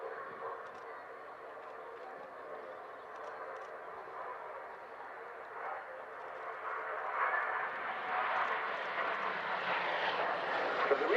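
A Gloster Meteor NF-11 night fighter jet flying at the RAF Cosford Airshow, a faint, distant engine rush that slowly builds louder toward the end.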